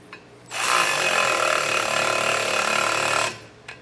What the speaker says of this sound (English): we can drop in our carriage bolts and thread on our nuts and then tighten them down